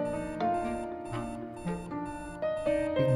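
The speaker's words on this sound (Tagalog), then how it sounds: "Hindi pinansin yung alarm ng 7." An alarm clock rings in the video game Florence, a repeating electronic melody of bright tones in regular bursts, steady and moderately loud with no talking.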